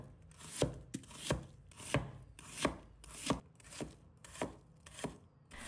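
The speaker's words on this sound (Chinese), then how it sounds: "取半个紫皮洋葱，再改刀切成丝。" A kitchen knife slices half a red onion into strips on a wooden board, about ten crisp, evenly spaced chops heard up close with no voices.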